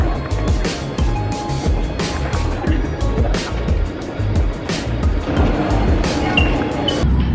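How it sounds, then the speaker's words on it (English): Inside a moving taxi in Shanghai: a continuous rumble of road and engine noise with a gently rising and falling hiss and occasional light bumps, heard from within the cabin. "I've just got into a taxi and now we're on our way to get our dinner"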